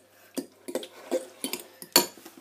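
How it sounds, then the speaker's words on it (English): A spoon stirs macaroni cheese in a metal pot, knocking and scraping against the sides in about six sharp, close clanks spaced roughly every half second, with the last one loudest. "Now you have mopped up your mess, you now need to stir yet again."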